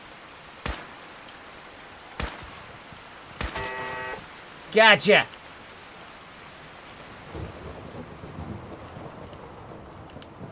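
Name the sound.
rain and thunder in a video game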